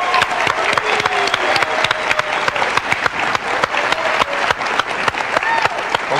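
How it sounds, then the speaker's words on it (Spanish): Studio audience applause welcoming a guest onto a comedy talk show set, loud and sustained with dense overlapping claps throughout, no voices over it. "vamos a recibir con un fuerte aplauso a nuestro invitado del día de hoy"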